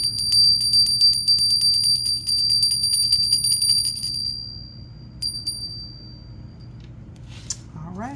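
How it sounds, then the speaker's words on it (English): A small bell rings repeatedly in a fast, steady series for about four seconds, then two brief taps follow, all set against a constant low background hum. "let's go ahead and ring the bell"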